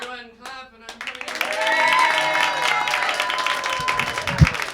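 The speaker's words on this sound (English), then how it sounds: "Everyone clap, and I'm coming" An audience clapping at the start of a comedy show, following a man's spoken line; the applause rises and holds steady at moderate loudness, with some cheering in the crowd.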